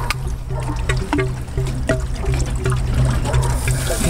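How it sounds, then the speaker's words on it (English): An acid mixture poured over a Hayward Turbo Cell pool salt cell in a cleaning stand, a continuous close trickling and splashing of liquid with small gurgles and drips throughout. "I'm going to go ahead and pour some acid,"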